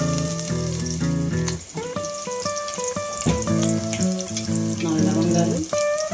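Onions frying in oil for a hotel-style mutton curry: a steady sizzle runs throughout beneath fairly loud background music.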